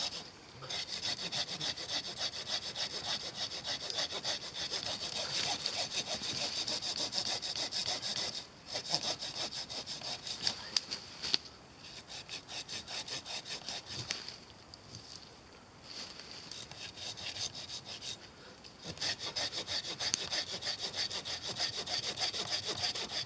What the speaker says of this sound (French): Le bois est mort, mais il est encore très très dense, ça se sent quand on scie.